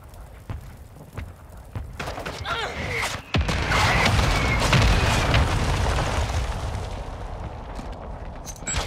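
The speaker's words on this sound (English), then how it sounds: "Friendly mortar strike on the way." Friendly mortar strike in Call of Duty: Modern Warfare II: scattered thuds, then a sharp nearby blast swells into a long, heavy rumbling roar of explosions that slowly fades, with game voices briefly over it.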